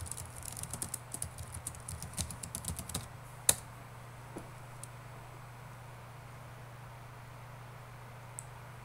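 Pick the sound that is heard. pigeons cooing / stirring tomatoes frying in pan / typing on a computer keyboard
typing on a computer keyboard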